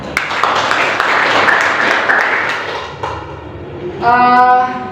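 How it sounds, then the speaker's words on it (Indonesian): Applause from a class in a lesson fills most of the clip, a dense wash of clapping that thins out, followed by a brief tonal voice-like sound at the end. "Tepuk tangan."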